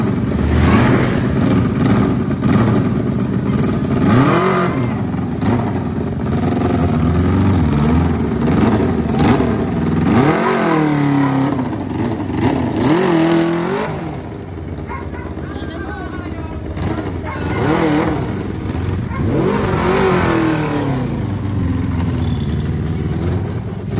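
A big bike motorcycle engine runs and revs in repeated rising bursts over a rough, loud idle. A person talks over it now and then.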